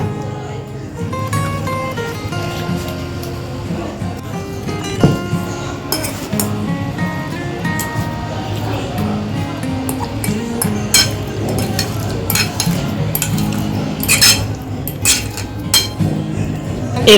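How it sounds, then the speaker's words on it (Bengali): Poured mango pulp mixed with sugar in a bowl, with repeated close clinks and scrapes of a spoon against the dish, irregular and busier toward the end, and a voice talking faintly underneath. "আমটা ঢেলে চিনি মিশাতে হবে"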